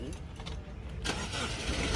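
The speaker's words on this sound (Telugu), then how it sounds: "సింగిల్ సెల్ఫ్లో బండి స్టార్ట్ అవుతుంది" A 2016 Honda Mobilio diesel starting on a single crank: a brief starter whirr, then the engine catches about halfway through and settles into a steady, close, loud run, with no talk.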